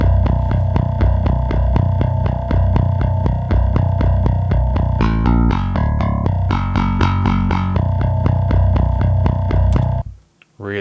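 A clean DI bass preset from the EZbass plugin plays a run of evenly repeated, punchy low notes in a steady pulsing rhythm, with a brief melodic shift midway before it cuts off near the end.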